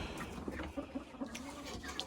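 Backyard chickens in a coop being given feed, clucking softly in short repeated calls against steady low background noise.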